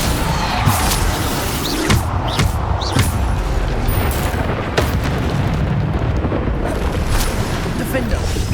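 Repeated booming spell impacts in Hogwarts Legacy, a series of loud blasts and crashes about once a second over a dense, continuous rumble of combat noise, with a voice calling out spells.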